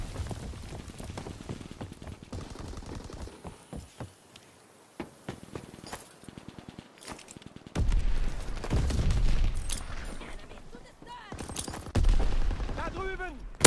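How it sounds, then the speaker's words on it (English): Call of Duty WW2 battle with rapid bursts of gunfire and crackling shots, then heavier booming mortar-like blasts in the later part, while game voices speak over the combat. "Enemy mortar fire incoming."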